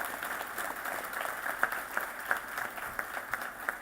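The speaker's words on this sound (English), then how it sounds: "Let's give them a big round of applause." A crowd at an outdoor welcome-home event for Vietnam veterans applauds in a continuous, fairly distant wash of clapping, with a few louder individual claps popping out at irregular moments.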